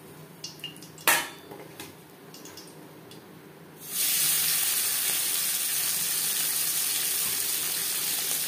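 Fried tangra fish lifted out of the pan into a dish, with metal utensils clinking and scraping against cookware, then a loud steady sizzle of hot oil swelling up and continuing to the end.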